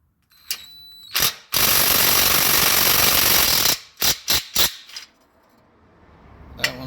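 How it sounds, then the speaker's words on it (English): An impact wrench hammers at exhaust manifold bolts under a J20 dump truck, opening with a few short rattling bursts, then a long loud two-second run, then several quick clattering bursts close by. "We're going to see if we can get those bolts out of the manifold with the impact."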